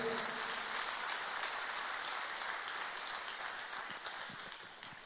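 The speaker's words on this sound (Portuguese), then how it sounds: "Você pode aplaudir o Senhor?" A church congregation claps together during a sermon, a sustained patter of many hands like heavy rain that tapers slightly, with a couple of sharper single claps near the end.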